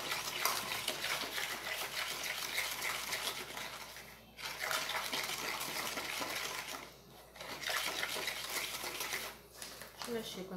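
Homemade bar soap mixture being stirred in a container, a steady swishing and scraping texture that runs continuously with two brief pauses, close and fairly even.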